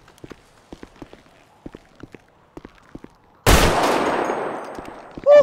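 A burst of video game gunfire erupts partway through as a dense, loud crack that decays over about two seconds, preceded by a series of soft, evenly spaced footstep-like taps.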